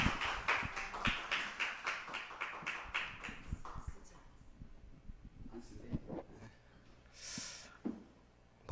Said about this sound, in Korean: 우리 박수 한번 하세요.